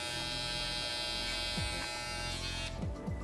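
An electric hair trimmer buzzes close by during a men's haircut, a steady whine whose pitch dips in a few short slides as the blade moves through hair, with no voices.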